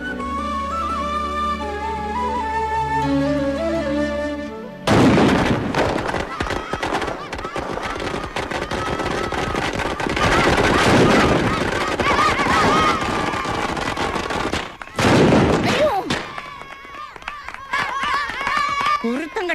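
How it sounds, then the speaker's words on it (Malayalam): Firecrackers bursting in rapid, dense crackling volleys, loud and close, with voices and shouting heard over and between the bursts. "കുണ്ടിപ്പുറയിലിട്ടാന്നോടാ പടക്കം പൊട്ടിക്കുന്നേ?"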